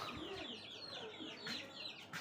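Young tiger-breed chicks and hens cluck and chirp softly nearby in a short burst of overlapping calls, with faint background noise.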